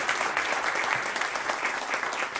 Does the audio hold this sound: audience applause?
yes